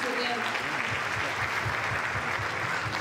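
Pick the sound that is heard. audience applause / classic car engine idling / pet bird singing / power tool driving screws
audience applause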